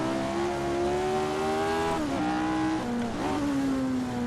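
A 1960s Lotus 49 Formula 1 car on the Nordschleife accelerates hard out of a corner, its engine note loud and close, rising steadily, dipping briefly at a gear change, then climbing again.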